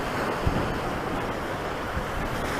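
Ocean waves break on a shore on an evening beach, making a continuous, loud, rushing roar with faint low thumps of surf. Some wind buffets the microphone, and nobody speaks.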